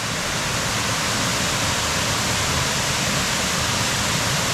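A steady, loud rush of falling water from a waterfall in Thailand, a dense, unbroken roar held at close range for the whole stretch with no voices.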